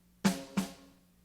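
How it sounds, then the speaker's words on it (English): A drumstick bounces on a drum for a double stroke, giving two close, clean strikes with the second slightly softer and a short ringing tail. "That's the double stroke."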